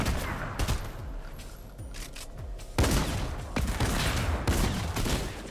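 Gunfire rattles in a Fortnite Battle Royale match, with bursts of rapid shots, sharp single cracks and booms that come loud and close over a dense game soundscape.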